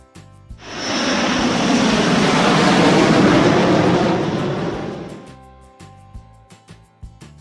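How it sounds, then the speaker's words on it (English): A fixed-wing airplane passes with a loud, steady roar that swells in and holds for about five seconds before fading, followed by light music. "Airplane."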